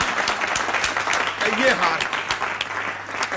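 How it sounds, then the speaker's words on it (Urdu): Applause from an audience gathered at a fundraising event, with steady clapping throughout and a brief spoken phrase over it. "تالیاں. تالیاں."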